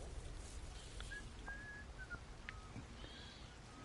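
Faint whistled notes from the Atomfall video game, a few short rising and level tones spaced across a steady noisy ambient background, no speech.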